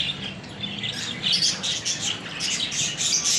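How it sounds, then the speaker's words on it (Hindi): Several parrots chirp and squawk in bursts of bright, shrill calls, a steady busy chorus close by with a low background hum beneath. "ये देखिए कितने खूबसूरत और हसीन तोते हैं,"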